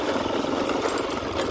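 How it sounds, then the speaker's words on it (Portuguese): A Honda Bros motorcycle engine idles steadily on a rural farm, a continuous close, loud rumble with no break for its whole length. "E vamos descer de moto mesmo."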